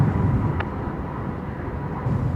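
Emirates airliner lining up on the runway at Brisbane Airport, a steady low jet-engine rumble with a broad roar, idling at a distance and holding constant throughout.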